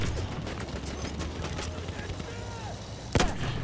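Battlefield 1 combat with bursts of enemy machine gun fire and heavy gunshots, one sharp loud report near the end, amid constant battlefield noise and a voice talking at times.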